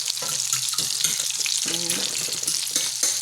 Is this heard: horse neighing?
no